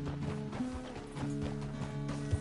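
Horse hooves clop in a steady rhythmic gait in the Red Dead Redemption 2 video game, moderately loud under a humming background, with no speech.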